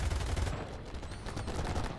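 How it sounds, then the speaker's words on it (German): Tank cannon and machine-gun fire in the War Thunder video game, a dense run of rapid booming shots and rattling bursts filling the whole moment without talk. "Mit der Kanone anschießen."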